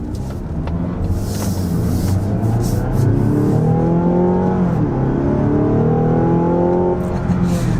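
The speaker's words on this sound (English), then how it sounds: "This engine sounds great" A 2025 Mazda CX-70 Plug-in Hybrid's engine revs up steadily, its rising pitch climbing through the gears with a loud, close-up drone from inside the vehicle.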